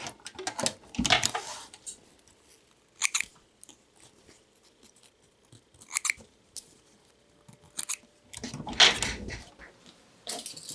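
Scissors cut through fabric while a skirt vent corner is trimmed at a sewing table, giving several separate bursts of crisp snipping and crunching with quiet gaps between them, close and fairly loud, no talk.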